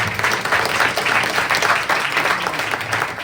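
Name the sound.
audience applause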